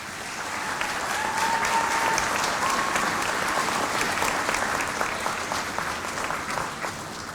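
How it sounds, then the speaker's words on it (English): Sustained applause at a 2023 college graduation ceremony, as graduating students clap for the family and supporters gathered around them; a dense, steady wash of many hands that holds for several seconds without talk. "Can I ask that the students applaud the folks who are gathered all around here who've supported you this far?"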